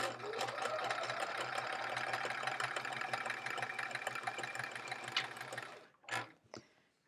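A sewing machine stitches quilt pieces together for a checkerboard border. It runs in one continuous, close hum for about six seconds, then stops, followed by a couple of short clicks and handling sounds.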